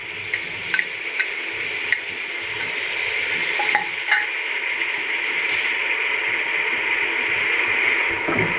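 Tomatoes and green chillies go into a hot frying pan, giving a steady, close sizzle of frying with a few light clicks of a spoon against the pan.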